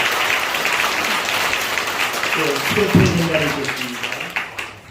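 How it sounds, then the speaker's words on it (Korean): Church congregation applauding during a worship service honoring a retiring pastor, dense clapping that fades toward the end while a voice speaks over the tail. "박수를 주시겠습니다."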